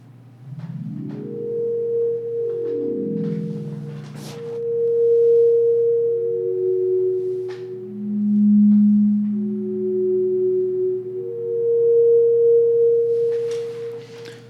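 Smooth synthesized tones from a laser harp built with Max 8 and Arduino glide and sustain, shifting between steady pitches in a sequence of electronic notes with no talking.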